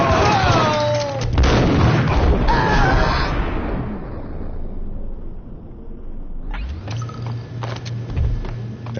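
Booming gunfire and blasts in the Max Payne video game, a loud sustained roar that fades and then resumes with rapid shots, with a shout early on.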